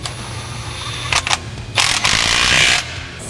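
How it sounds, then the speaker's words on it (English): A ratchet with a 16mm socket tightens an exhaust clamp on a 2022 Ford Bronco during an AWE exhaust kit install, with a few quick clicking pulls and then a longer run of rapid ratcheting close up. "16mm socket, and we'll tighten it down"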